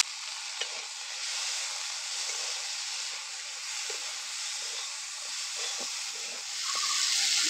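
Chopped tomato drops into a hot pan of okra curry and sizzles steadily, a loud continuous frying hiss with a few soft scrapes of stirring, swelling slightly at the end.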